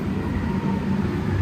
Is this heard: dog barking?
no